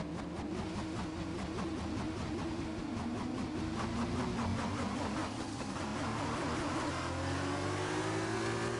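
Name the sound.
racing car engine revving in Formula racing video game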